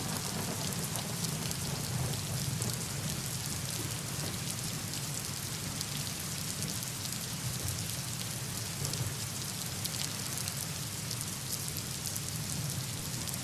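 Heavy monsoon rain pours down near the flooded Andheri subway in Mumbai, a dense, constant roar of drops hitting surfaces with no pauses and no voices.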